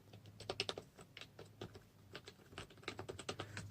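Fingers type on a Soundbot SS301 gaming keyboard with a rubbery, plastic feel, giving quick irregular bursts of close, quiet key clicks and taps with short pauses between runs.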